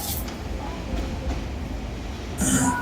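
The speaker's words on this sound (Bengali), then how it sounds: "ট্রেনটি লোকাল হওয়াতে সময় একটু বেশি লাগে" The Karnaphuli local train runs on its route between Dhaka and Chittagong, giving a steady, close, loud rumbling roar with a brighter surge of noise at the very end.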